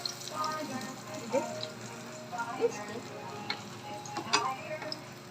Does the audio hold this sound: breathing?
no